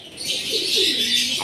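Pigeons cooing and fluttering close by, a short soft burst with a breathy rustle over it, no voices.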